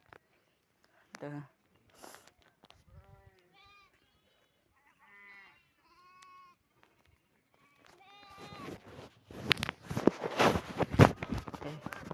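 Sheep bleat several times in a row, high wavering calls at moderate distance, before louder rustling, movement and voices take over near the end.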